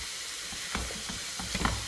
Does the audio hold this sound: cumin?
yes